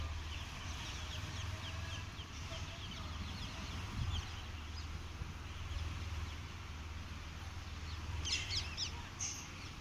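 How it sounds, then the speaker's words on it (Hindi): Many birds call and chirp in the early morning outdoors in misty weather, a busy chorus of overlapping calls over a steady low background hum, with a brighter burst of chirps near the end. "ये सुबह सुबह पक्षियों को पता नहीं कौन से काम होते हैं, देखो कितने सारे, कितने अच्छे लगते हैं ना।"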